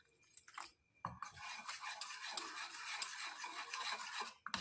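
Besan flour is stirred into a batter with water, producing a continuous wet rasping and scraping from a spoon against the bowl, close by and fairly quiet, with a short pause before the mixing starts.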